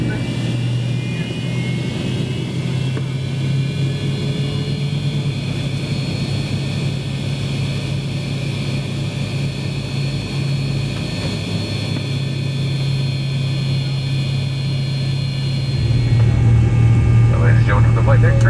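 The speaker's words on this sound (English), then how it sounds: "some incredible sound from those Pratt & Whitney JT-8Ds taking off from runway 26 left" Pratt & Whitney JT-8D jet engines on a 29-year-old Delta MD-88 roar steadily from inside the cabin during takeoff from runway 26 left, swelling louder toward the end, with a voice talking faintly beneath.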